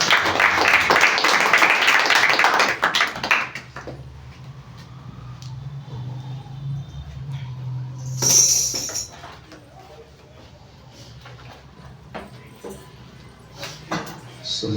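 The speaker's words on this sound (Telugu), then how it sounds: "అందరూ కూడా చప్పట్లు కొట్టి బిడ్డలు" Church congregation clapping hands at a Sunday worship service, a dense burst of applause filling the room for the first few seconds before fading into quieter room sounds.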